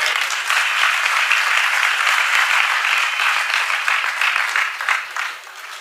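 Steady applause from a crowd gathered for a Jain religious discourse at Antariksh Parshvanath, Shirpur, a dense sustained wash of clapping that thins and fades near the end.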